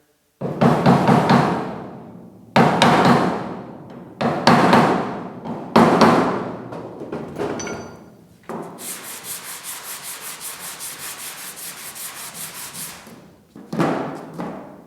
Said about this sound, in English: we'll give it a couple of hits with a hammer here.